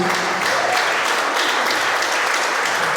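A congregation at a Christian worship service applauding steadily, dense continuous clapping that holds at the same loud level throughout.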